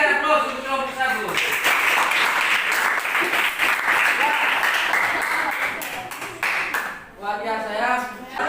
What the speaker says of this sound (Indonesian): kita berikan aplaus untuk kelompok 1